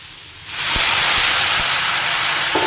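Water pours into a hot pan of beans and plantain and erupts into a loud, sustained steaming hiss that starts abruptly and holds steady.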